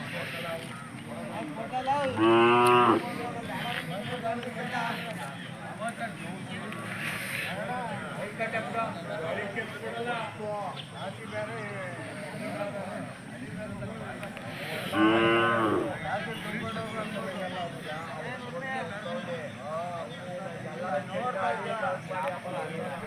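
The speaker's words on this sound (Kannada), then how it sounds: "ಜೋಡುಗಟ್ಟೆ ದನಗಳ ಸಂತೆ ಪ್ರತಿ ಭಾನುವಾರ ತುರುವೇಕೆರೆ ತಾಲೂಕು ತುಮಕೂರು ಜಿಲ್ಲೆ" Cattle mooing at the Sunday Jodugatte cattle market in Turuvekere taluk, Tumkur district, Karnataka, with two loud moos standing out over a constant crowd of people talking and general market bustle.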